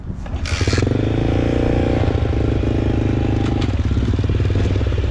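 A mini motorbike engine catches after a brief mechanical clatter and then runs at a loud, steady idle close by, with a rattling, buzzy tone.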